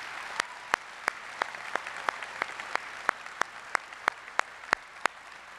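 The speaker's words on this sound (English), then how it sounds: "One more round of applause for all of these great people up here" Audience applause for elected officials at a Jefferson Parish inauguration, a steady wash of clapping across a hall with sharp individual claps standing out close to the microphone, continuous and moderately loud.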